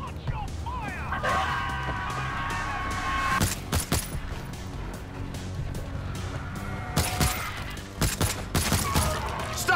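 Gunfire in the zombie shooter World War Z: rapid bursts of shots crackle over a noisy battle ambience, sometimes sparse and sometimes dense, with voices shouting during the fighting.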